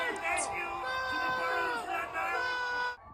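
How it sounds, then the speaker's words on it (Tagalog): An excited New York crowd cheers and shouts, with overlapping whoops and yells rising and falling across a few seconds before cutting off abruptly near the end. "Pakinggan mo ang mga hiyawan"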